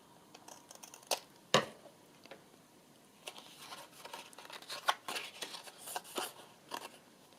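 Scissors cut paper for a mixed-media craft piece, giving a scattered run of quiet snips and crisp clicks at close range with short gaps between them and some light paper rustling.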